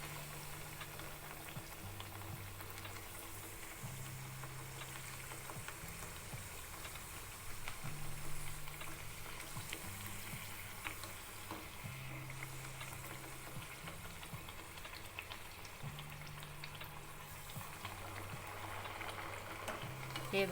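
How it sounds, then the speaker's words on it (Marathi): Chirote pastries deep-frying in hot oil over a medium flame, giving a steady close bubbling sizzle that runs evenly throughout with no talking. "आता तेलामध्ये तळून घेऊ."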